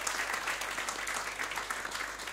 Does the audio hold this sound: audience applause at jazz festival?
yes